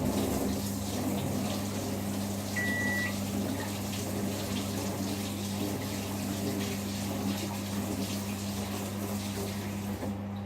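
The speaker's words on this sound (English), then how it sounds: "I need to wash this a minute. A fork." Steady running tap water while a fork is rinsed under it at a kitchen sink, a constant close wash of flowing water with a low hum underneath and no talk.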